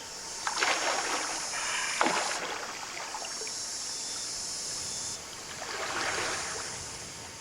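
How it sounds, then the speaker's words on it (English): Someone wades into a creek, sending up a couple of close splashes and then a longer surging swirl of water, with little else heard. "What better way to cool off than having a dip in the creek?"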